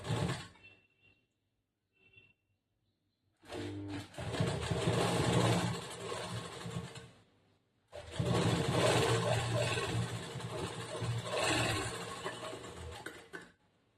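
Domestic sewing machine stitching a fold on a blouse in two sustained bursts of rapid whirring, close and fairly loud, separated by a pause with small handling clicks.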